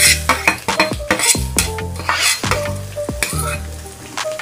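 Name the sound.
chopped onion added to hot pan, frying for paneer bhurji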